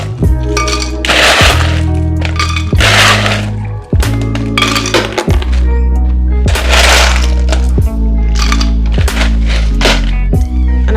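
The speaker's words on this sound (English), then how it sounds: "I'm gonna add the ice" Ice cubes tumble into a pina colada mix with pineapple juice, clattering and cracking in loud, repeated bursts about a second apart, close and hard against the container.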